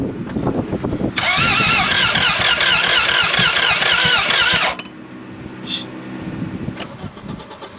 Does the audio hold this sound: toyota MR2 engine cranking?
yes